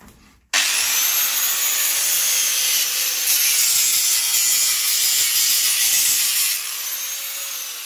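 A hand saw cuts through wood for a chicken coop floor grate, a steady continuous rasp close up lasting several seconds after a brief quiet start, then easing slightly near the end.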